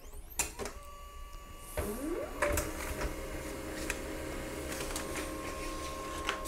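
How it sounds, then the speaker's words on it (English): A Pantum P2500W laser printer starts up and feeds a page: a few sharp clicks, a rising whir as the mechanism engages, then a steady mechanical hum with scattered clunks, fairly close and unaccompanied by talk. "This page will be printed"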